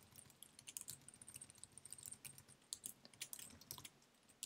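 Fast, irregular clicking of typing on a computer keyboard while filling in code for a React register form, close and fairly quiet, with dense bursts of keystrokes running steadily throughout and no talking.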